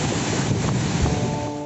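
Sea waves wash at Kanyakumari, a broad steady surf roar mixed with wind buffeting the microphone, with no talk.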